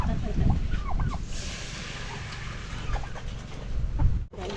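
Native chickens on a farm give a few short clucks and calls against a steady hiss of outdoor background noise, fairly faint and scattered, with no talk.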